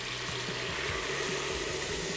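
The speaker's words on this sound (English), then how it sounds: "we are going to just cover the chicken frames with water" Water runs steadily from a tap over chicken frames in a pot for broth, a continuous broadband gush filling the short clip with no talk.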